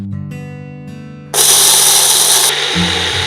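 Rasam powder spices with curry leaves ground in a kitchen mixer grinder: a tonal motor hum, then a loud, steady roaring grind that keeps going to the end, with no talking.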